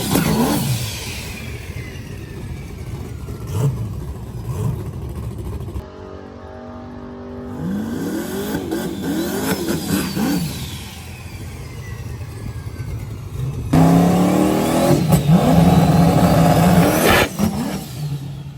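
A race car engine revs and accelerates in several bursts, loud and close, with a rising whine and a roaring surge near the end.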